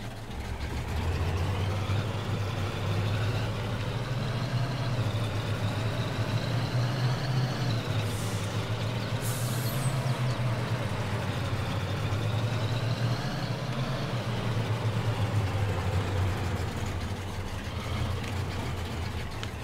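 A truck engine from Farming Simulator 22, a Zil or Kamaz mod, runs steadily with a deep, constant rumble and low throb that stays loud and unbroken throughout, with no talk over it.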